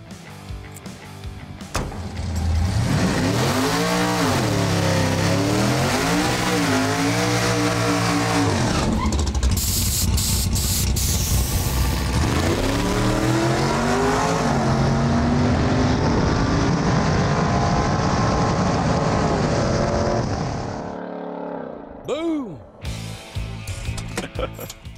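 A 1977 Ford Granada sleeper makes a drag run on a 125-horsepower nitrous shot from twin bottles, the engine roaring loud and close through several rising gear pulls for about twenty seconds before cutting off abruptly.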